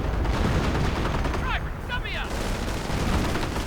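Artillery and machine-gun fire from a real-time strategy video game, a dense continuous roar of gunfire and blasts with brief whistling tones in the middle, loud throughout.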